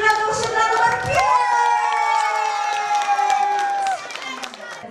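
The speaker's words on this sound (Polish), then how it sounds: "No to wielkie brawa dla najlepszej Rady Osiedla nr 5!" A crowd of children cheers and shouts at a neighbourhood Santa Claus party, loud and close, with high excited voices and clapping that carry on steadily before dropping off near the end.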